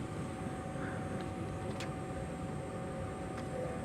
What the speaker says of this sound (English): Takeoff.